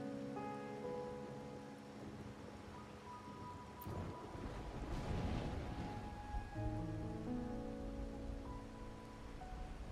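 Rain falls in Raguna in the video game Wuthering Waves, a soft, continuous patter beneath layered musical tones, swelling briefly in the middle before easing back, with no talk.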